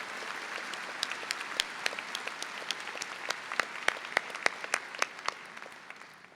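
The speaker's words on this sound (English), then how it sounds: "Please give all of our guests a round of applause" An audience applauding at a high school graduation ceremony, a dense wash of clapping with some sharp individual claps standing out, steady and then tapering off.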